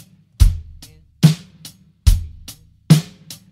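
A drum kit plays a steady beat, bass drum kicks alternating with snare hits, four strong strokes spaced evenly with lighter cymbal or hi-hat taps between them, close and clear with no talking.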